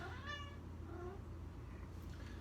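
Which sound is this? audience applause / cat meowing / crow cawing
cat meowing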